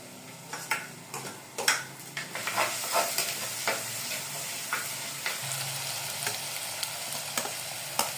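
Curry leaves crackle and sizzle in hot oil for a prawn curry, with sharp irregular pops and occasional stirring scrapes over a continuous frying hiss, close but moderately quiet.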